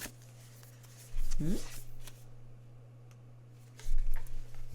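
Tarot cards being shuffled by hand in two short bursts of papery riffling and flicking, close and fairly quiet, over a steady low electrical hum, with a brief voice sound between them.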